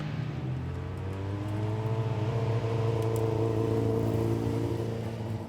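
Racing sidecar outfits at Cadwell Park leave the collecting box and head out on track, engines droning steadily and building slightly in pitch, loud and close with no talk.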